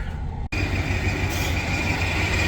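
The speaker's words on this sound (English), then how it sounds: "now that I drove it, that squeal has gotten worse. I can clearly tell it's coming from the alternator" A worn alternator on a camper engine gives off a loud, sustained high-pitched squeal over the running motor, steady and unbroken after a brief cut.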